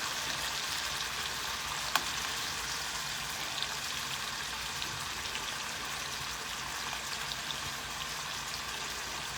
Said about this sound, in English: I'm just going to brown this in olive oil and butter.